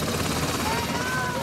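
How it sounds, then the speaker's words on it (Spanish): Colombian Army helicopter arriving at National Army facilities in Cúcuta, Norte de Santander: a steady, loud rotor and engine drone throughout, with a voice talking over it. "Al arribar el helicóptero en las instalaciones del Ejército Nacional en Cúcuta"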